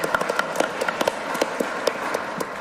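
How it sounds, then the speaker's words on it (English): A studio audience claps for a guest on a live news show, with scattered, uneven hand claps at moderate loudness. "Let's have a round of applause."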